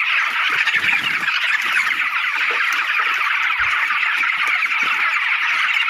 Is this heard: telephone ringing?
no